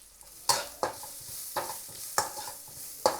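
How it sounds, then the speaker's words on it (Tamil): Onion sautéing in a pan with a pinch of salt for prawn noodles, a low sizzle punctuated by five sharp, evenly spaced spatula strokes against the pan, close and clear with no speech. "ஆனியன் லைட்டாக சாட் ஆனதும்"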